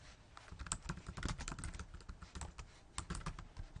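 Fast, steady typing on a computer keyboard while entering a compound-interest formula into an Excel spreadsheet, with dense close-up key clicks and no voices.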